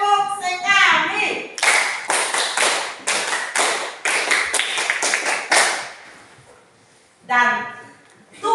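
A group of listeners at a church teaching gathers into a quick run of sharp, unison claps, roughly eight crisp slaps in steady rhythm, with voices talking before and after the clapping.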